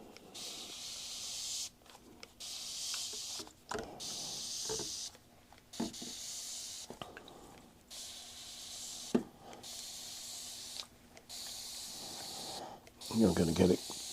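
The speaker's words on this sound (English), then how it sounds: "this sprayer sprays with quite a bit of force, so it's pushing the sawdust around" Spray bottle forcefully misting isopropyl alcohol onto sawdust: repeated short, soft hissing squirts in an irregular rhythm, close and fairly faint, with a voice talking between them.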